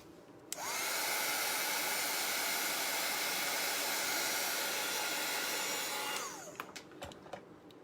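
A heat gun or dryer drying chalk paste on a craft tray blows a loud, steady whooshing roar for about six seconds, then cuts off, followed by a few light clicks and taps.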